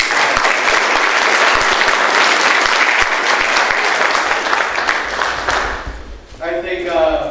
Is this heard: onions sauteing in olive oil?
no